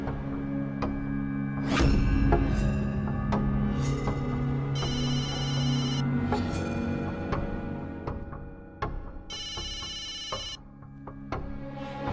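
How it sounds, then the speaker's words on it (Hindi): A mobile phone rings repeatedly with a bright electronic ringtone, loud and close, looping melodic bursts over a quiet room with no talking. "तुम्हारा मोबाइल बज रहा है कब से?"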